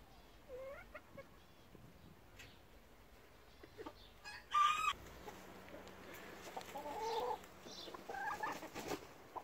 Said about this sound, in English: No, these aren't dead chickens.